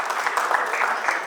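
An audience applauds at an awards ceremony in Dubai, a dense, even wash of clapping that carries through the whole moment at a fairly loud, steady level.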